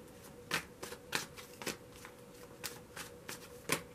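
Several quick riffles of cards being shuffled, short crisp bursts spaced irregularly, close by, with no talking.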